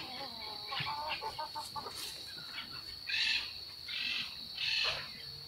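Farm chickens outdoors on a morning of animal care: scattered clucks and calls, with louder bursts of squawking near the end, fairly faint and with no talking.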